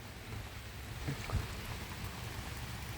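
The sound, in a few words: rain falling during a storm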